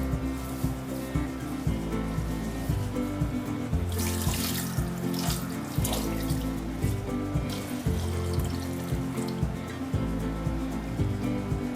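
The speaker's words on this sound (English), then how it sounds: "So first I'll just wash this rice and dal." Rice and urad dal being washed under a running tap at a kitchen sink, with water gushing steadily and splashing close up throughout.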